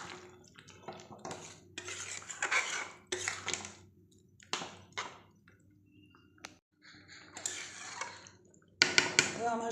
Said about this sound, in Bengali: খুলে একটু আবার নাড়াচাড়া করবো।